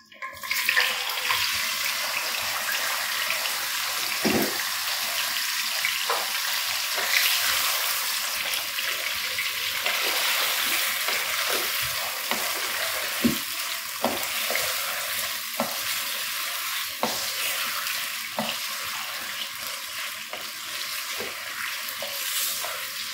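Chicken pieces with scored legs frying in hot oil in a karahi, a loud hissing sizzle that never lets up, with occasional knocks and stirs close by and nobody speaking.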